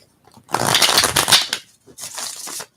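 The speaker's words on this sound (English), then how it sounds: "I'm going to do one final shuffle." Tarot cards riffled in a quick shuffle, two close crisp bursts of rapid fluttering card noise separated by a brief pause, alone with no talk.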